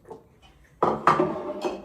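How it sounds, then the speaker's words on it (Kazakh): Dishes clink and clatter as they are set down and arranged at home, several sharp knocks of crockery close by after a quiet start. "Әдемлеп ыдыстарды бұлай қоясың, Айша."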